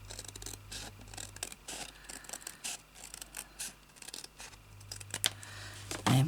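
Scissors snip slowly and carefully through a paper envelope to make a craft journaling pocket, a steady run of close, quiet cuts and paper rustles with no talking.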